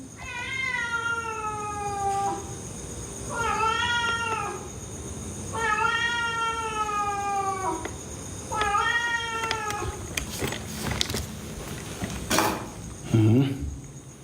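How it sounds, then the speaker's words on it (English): A stray cat meows in four drawn-out, wavering calls with short gaps between them, fairly close, followed by a few scattered clunks and knocks near the end. "Was it just a stray cat?"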